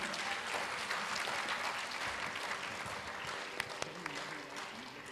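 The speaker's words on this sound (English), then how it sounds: "Another round of applause for Suhani." An audience applauds after a Bharatanatyam performance, sustained crowd clapping at an even level with a few sharper claps standing out near the end.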